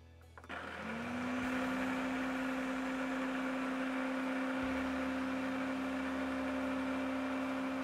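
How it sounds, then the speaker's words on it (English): A blender on medium speed whirs steadily while blending hollandaise sauce with hot butter, starting up with a quick rise and then holding a loud, even motor hum with a bright whine on top. "Put our blender on medium and slowly add in our hot butter."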